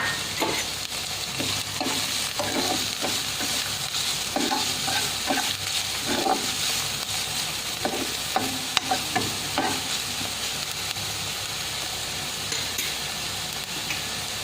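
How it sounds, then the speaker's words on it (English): Olive oil sizzling hot in a pan as onions go in, a steady close hiss with repeated scraping stirs and a few sharp clinks, no talking. "Here I have heated around 2 tablespoons of olive oil. Once it's nice and hot,"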